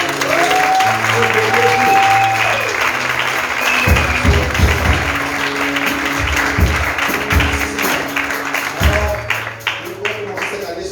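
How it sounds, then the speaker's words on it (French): A church congregation at a French-language divine healing service applauds to acclaim the Lord, a loud sustained wash of clapping with rhythmic taps and a held musical tone underneath. "Est-ce qu'on peut acclamer le Seigneur?"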